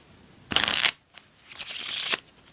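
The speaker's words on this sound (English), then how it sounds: "you need to dispose of these cards either by immediately shuffling the pack" Two quick riffles of a card deck being shuffled, close up and crisp, with a short pause between them.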